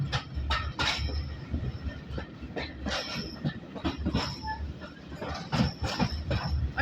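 Riding aboard the steam engine Titan on the line from Corfe Castle to Swanage, the carriage rumbles and clatters along the rails, with rhythmic clicks, knocks and brief wheel squeals over a steady low roar.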